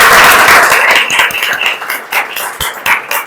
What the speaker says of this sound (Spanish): Así que un aplauso para Mariana.